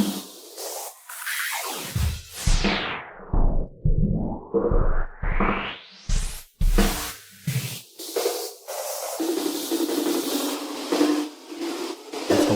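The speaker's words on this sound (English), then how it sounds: "Let's combine now some echoes, some distortion here, and riser, sweep," Processed electronic effects: swooping sweeps, distorted bursts and echoing swishes rise and fall in quick succession, ending in a sustained hazy wash.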